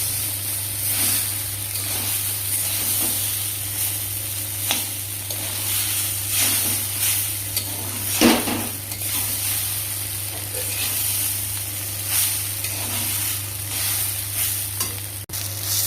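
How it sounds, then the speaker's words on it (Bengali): Chowmein noodles with vegetables and eggs are stirred in a pan with little oil, giving a steady soft sizzle and frying hiss with scraping stir strokes and one sharper clatter midway, under a constant low hum. "জাস্ট একটু নাড়িয়ে বন্ধ করে দেবো গ্যাস।"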